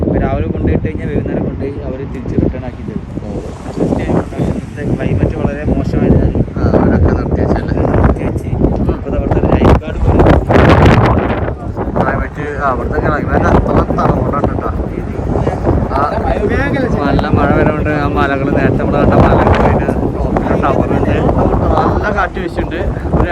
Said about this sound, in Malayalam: ഇന്നലെ രാത്രി തൊട്ട് തുടങ്ങിക്കണ് ഈ കാറ്റ്